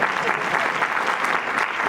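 Audience applause at a gathering, a continuous dense patter of many hands clapping at close range, steady and fairly loud throughout.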